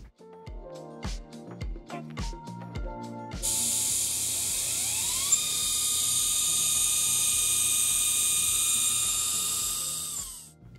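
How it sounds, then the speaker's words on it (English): A high-frequency oil-air lubricated spindle starts after a run of rhythmic beeps and clicks, rising to a steady, piercing high whine with a hissing airflow that holds and then fades at the end. "Start the spindle and make sure it's spinning the correct direction."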